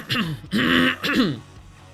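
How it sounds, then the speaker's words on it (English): A man clears his throat in the morning, three rough, close throat-clearing bursts in quick succession with short gaps, loud and alone. "try to clear my throat"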